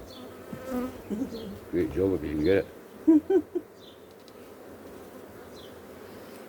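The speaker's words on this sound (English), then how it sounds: "It's just going around being fed and cleaned by all the worker bees." Honeybees buzz steadily in an active hive in Kincardine, a close, low hum that runs under brief talk.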